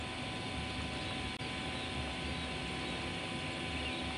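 Twin electric motors of a FIMI Manta VTOL fixed-wing drone whine steadily in flight, a sustained broadband drone with a brief dip partway through, heard alone without talk.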